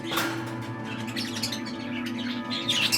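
Parakeets and other small aviary birds chirp and tweet in a busy, overlapping chorus, with sharp squawks mixed among steady twittering at moderate distance.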